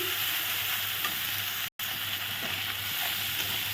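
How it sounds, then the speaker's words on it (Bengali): Chili powder stirred into frying vegetarian food gives a close, continuous sizzle with scraping stir sounds, broken by a brief dropout midway, with no voices. "লঙ্কার গুঁড়ো নেড়ে নিলাম"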